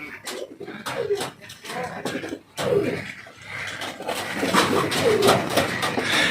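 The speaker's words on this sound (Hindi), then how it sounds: "ये वाइट कबूतर है ना," White pigeons coo close by at a cow shelter in Salasar, India, in soft, throaty, overlapping calls, a continuous murmuring chorus with a few sharp clicks mixed in.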